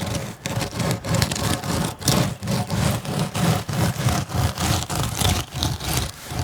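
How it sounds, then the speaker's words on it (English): A 2x4 wooden board is dragged back and forth across sand as a screed, making a steady rhythmic scraping rub in close, loud, repeated strokes. "I'm just using this 2x4 as a screed board, and I'm just screeding this off"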